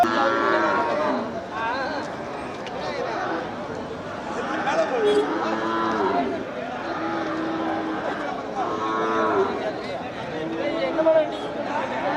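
Cattle moo repeatedly at the Melapalayam cattle market, several long drawn-out bellows from nearby and farther animals over a constant hubbub of crowd chatter and people talking.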